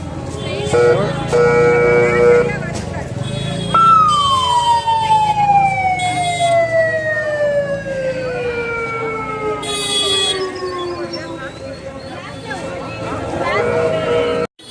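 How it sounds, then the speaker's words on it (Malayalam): A police vehicle's siren wails through a crowded Bangalore market, one long loud descending tone sweeping down over several seconds, with people talking and general market bustle around it. "പോലീസ് വണ്ടി വരുമ്പോൾ ഒരു സയറിന് അങ്ങോട്ട് ഇട്ട് കഴിഞ്ഞ് കഴിഞ്ഞാൽ എല്ലാ ആൾക്കാരും ഓടി മാറിക്കോളും"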